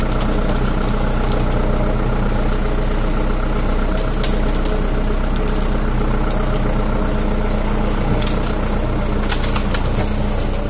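Tractor engine idling outdoors on a rural ride, a steady low rumbling drone with constant mechanical vibration, close and continuous with no talking.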